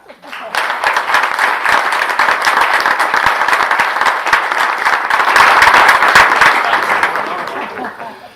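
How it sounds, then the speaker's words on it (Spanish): An audience in Valencia claps warmly after a documentary premiere about Cabanyal football, with dense sustained applause that swells for about seven seconds and then fades out. "un aplauso para él"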